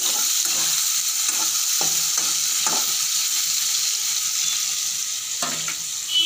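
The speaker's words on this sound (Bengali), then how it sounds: "এই দেখুন বন্ধুরা, সবজিটা একটু নেড়ে নিচ্ছি, ভাজা ভাজা হয়ে গেছে।" Vegetables fry in a hot pan with a constant loud sizzle, while a utensil stirs them in several short, evenly spaced scrapes.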